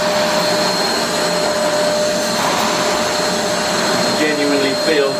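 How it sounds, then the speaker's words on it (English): A V-Tuf M class vacuum cleaner runs over carpet with a loud, steady whooshing roar and a constant whine of strong suction close by, with a faint voice briefly heard underneath near the end. "genuinely feel the suction, so much so it's actually lifting the carpet a little bit"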